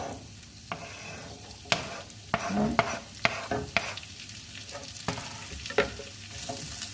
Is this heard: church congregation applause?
no